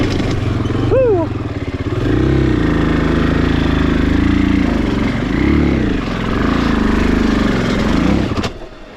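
A 2020 Husqvarna FE501S motorcycle engine idles and revs loudly up close, its pitch rising and falling in several surges before cutting out abruptly near the end as the bike stalls.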